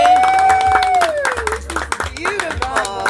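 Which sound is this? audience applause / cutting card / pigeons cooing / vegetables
audience applause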